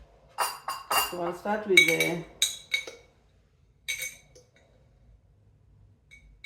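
Spices for an air-fried boneless chicken breast recipe are stirred together in a bowl, giving a few light clinks and taps of spoon against dish after a stretch of talk, then a brief, softer cluster of clinks.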